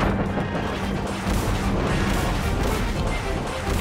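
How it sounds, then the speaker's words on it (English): Coconuts hurled at Kirby in the tropical woods of the game Kirby and the Forgotten Land: a dense, loud run of crashing, booming impacts that continues without a break, with no talking. "He threw some coconuts at me?"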